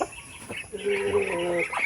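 Chickens cluck and murmur close by, a short burst of throaty calls rising over faint background noise.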